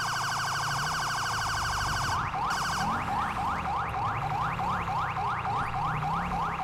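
A loud police siren in the video game LSPDFR blares, shifting from a steady wail into a rapid yelping pattern, close and continuous throughout.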